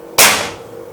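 A single sharp report from a PCP bullpup air rifle with a 500cc reservoir, fired during a chronograph velocity test, ringing out loud and close with a quick decaying tail.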